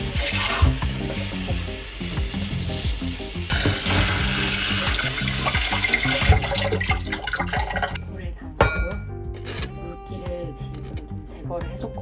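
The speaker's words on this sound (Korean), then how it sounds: "차가운 물에 씻어줘야 돼요." Boiled buckwheat noodles rinsed under cold running tap water in a kitchen sink. Water pours steadily and loudly, with handling noises and splashes. The flow cuts off near the end, leaving scattered clinks and rustles.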